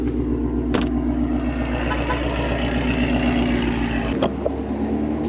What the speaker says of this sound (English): Oh my God, that idle.